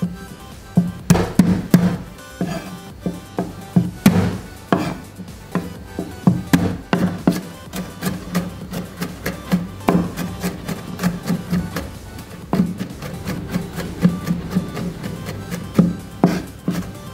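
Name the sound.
chopping garlic finely with a knife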